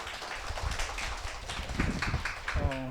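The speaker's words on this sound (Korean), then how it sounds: "다시 한번 남유진 학생한테 수고했다고 박수를 좀 부탁드리고요" A university class applauds a student after a teaching demonstration, with a steady patter of many hands clapping at moderate distance and a brief voice near the end.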